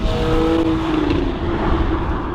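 A loud Porsche 911 Cabriolet engine revs up and holds a high, strained note near the top of the rev range, a rising whine over a dense mechanical roar, close by.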